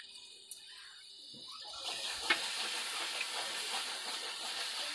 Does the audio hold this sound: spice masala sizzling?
yes